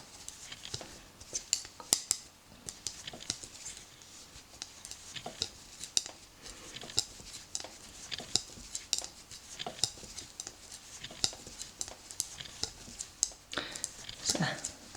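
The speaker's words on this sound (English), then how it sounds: "It's a nice little sound, clicking of needles." Knitting needles clicking while working a knit row of a garter stitch sweater: quiet, irregular light taps and clicks coming close together, recorded close up against a soft background.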